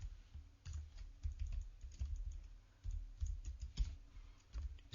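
Code is typed on a computer keyboard in a steady run of quiet, close key clicks with brief pauses, and no one speaks.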